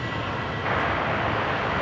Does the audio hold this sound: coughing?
no